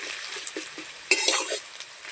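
Grated garlic hits hot oil in a pan, where onions and five-spice seeds are already frying, with a brief sizzle burst and a few clinks of a spoon stirring against the pot.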